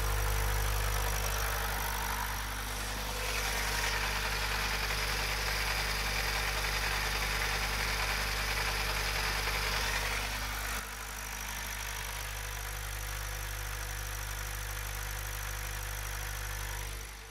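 A Mazda 2.2 Skyactiv D diesel engine with an abnormal noise runs steadily at raised RPM, a dense, continuous mechanical drone with a faint knocking texture, dropping slightly in level partway through.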